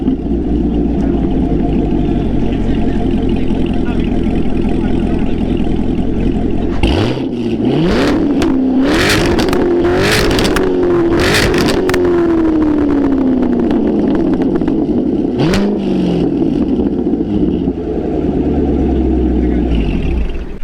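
A C7 Corvette with an AWE aftermarket exhaust idles low, then revs hard several times with a deep, raspy exhaust roar, settling back between bursts and a final rev.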